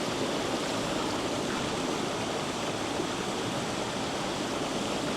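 Talla Falls at Talla Reservoir rushing on a rainy day, a steady, dense roar of falling water filling the whole stretch without pause, no voices.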